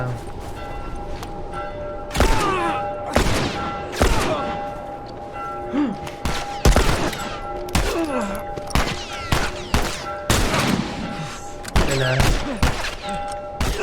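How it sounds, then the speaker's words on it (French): Gunfire in The Last of Us, a game session: repeated sharp shots and thuds scattered across the clip over a steady background hum, fairly loud and irregular, with a player talking now and then. "Ouh, ça tire."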